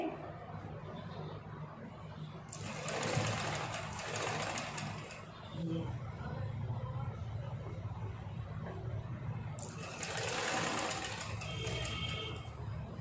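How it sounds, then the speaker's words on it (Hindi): A sewing machine stitches a petticoat, running in two separate bursts of fast, whirring stitching separated by a quieter pause with low background hum. "यहाँ पे हम इस तरह से इसकी सिलाई लेते जाएंगे।"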